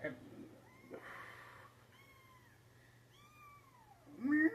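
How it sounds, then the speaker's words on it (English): Several cats meowing indoors in a run of drawn-out, rising and falling calls, close by and fairly soft, with a louder meow at the end and someone talking among them. "Y'all can meow all you want."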